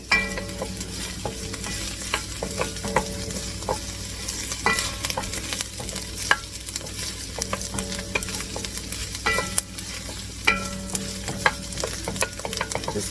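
Garlic pieces fry in a soup pot for chicken and rice soup, a constant sizzle broken by repeated scraping clinks of a utensil stirring against the pot, close and with no talking.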